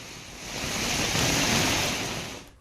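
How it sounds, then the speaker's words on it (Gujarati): Heavy monsoon rain pours down in a thick, hissing wash of noise that swells up and fades away over a couple of seconds, with no talking. "ધોધમાર વરસાદ જોવા મળી રહ્યો છે"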